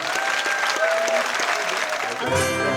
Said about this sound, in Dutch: geef nu eens een daverend applaus voor al die medewerkers